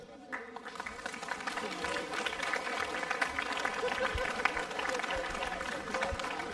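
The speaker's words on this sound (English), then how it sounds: "Once more, a big applause for our friends from the Kendo world" An audience applauding Kendo guests at the Tyrnhaw 2025 HEMA tournament finals, a sustained patter of clapping from a mid-sized crowd, with talk and murmuring mixed in throughout.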